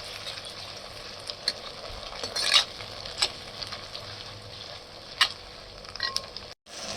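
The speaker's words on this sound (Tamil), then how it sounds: "தக்காளி நல்லா வதங்கட்டும்" Chopped tomatoes frying with onions and ginger garlic paste in a pan for chicken chukka, a continuous soft sizzle broken by occasional spatula scrapes and clicks, close by.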